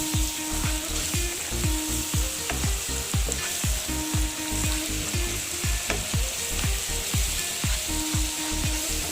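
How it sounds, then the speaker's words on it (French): Onions fry with a steady sizzle in a pan over medium heat while a utensil stirs them in regular scraping strokes, close and continuous with no voices. "vous allez bien mélanger pour que ce soit bien homogène, pour que les oignons soient bien cuits et tendres"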